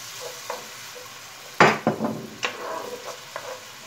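Eggplant sizzles and fries in olive oil in a pan, a steady close crackle punctuated by several sharp bursts of spattering as the pieces are stirred.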